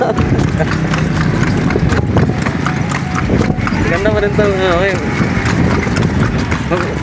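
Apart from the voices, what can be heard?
horse hooves clip-clopping while riding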